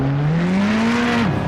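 A race car's engine on track, heard in replay, gives a loud, close, steady note that climbs slowly and then drops sharply just before the end.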